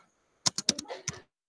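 Short burst of keystrokes on a computer keyboard, about six quick clicks in an irregular run, close and clear with no talking.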